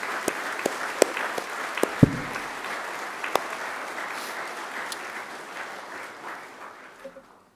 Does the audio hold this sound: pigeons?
no